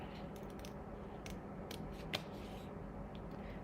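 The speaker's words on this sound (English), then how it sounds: "These are nice sharp scissors" Sharp scissors snip through a paper die cut for a birthday card, a few faint crisp cuts with one clear louder snip over a steady low room hum.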